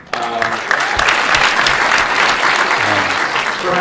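Audience applause for Dr. Gabor Maté at his alumni institution, a dense, steady wash of clapping that swells in quickly and holds loud and close throughout.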